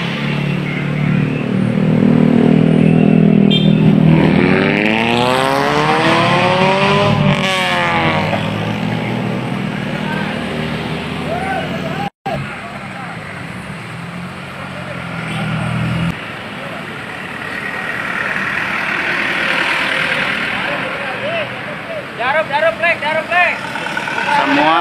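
Isuzu Elf minibuses arrive at a drivers' protest outside a regional council building in Cianjur, with loud engine rumble, idling and passing traffic beneath continuous talking and crowd noise.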